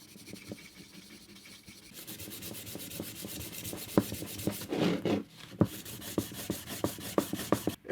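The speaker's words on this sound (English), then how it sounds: "I'm going to rub in black pen." A black pen rubs over a Dremel-engraved surface, first soft scratchy strokes, then firmer rubbing with sharp taps and scrapes building up close by.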